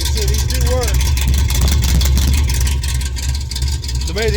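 An old muscle car's 383 V8 idles steadily just after a cold start on a cold day, with a loud, rumbling, continuous engine note and an exhaust leak, while a person talks over it.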